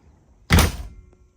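An RV entry door fitted with a new Kohree or Lippert lock swings shut with a single solid thunk, followed by a faint latch click in an otherwise quiet space.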